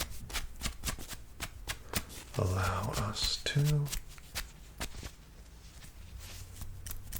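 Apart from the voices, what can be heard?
thinning scissors snipping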